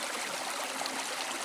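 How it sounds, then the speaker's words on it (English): Creek water flows steadily through a small hand-built dam, a continuous close rushing and trickling with no voices. "working on my dam across the creek, getting this thing to flow good again"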